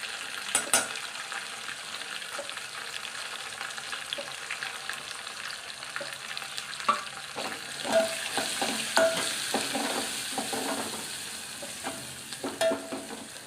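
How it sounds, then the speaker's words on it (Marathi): A Maharashtrian phodni tempering of spices, turmeric and chopped garlic sizzling in hot oil, a soft continuous crackle with occasional sharper pops and light utensil clicks, close and without talk. "बघा ही आता आपली फोडणी तयार झालेली आहे।"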